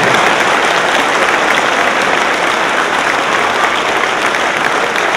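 Steady, dense applause from an audience at a political meeting in Stalowa Wola, loud and continuous throughout with no pauses and no voices standing out.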